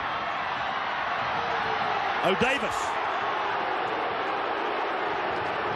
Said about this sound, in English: Newcastle crowd appealing for Cronulla inside the 10